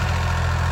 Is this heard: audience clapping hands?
no